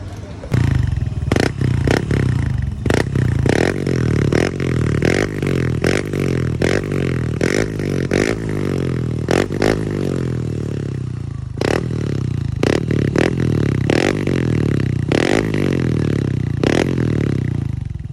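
A Yamaha NMAX V2 scooter fitted with an Apido V4 aftermarket muffler revs repeatedly, sharp throttle blips rising and falling over a loud idle with crackling pops between pulls, close to the microphone.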